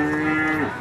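A Brahman cow moos at a cattle market, one short, close, loud bellow with a strong tonal drone that bends upward near its end.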